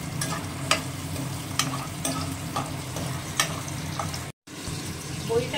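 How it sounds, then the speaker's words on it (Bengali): Lentil dumplings (bori) fry in mustard oil with a continuous close sizzle, broken by periodic stirring clicks and a brief dropout near the end. "সর্ষের তেল দিয়ে দিয়েছি, এবার বড়িটা ভেজে নেব।"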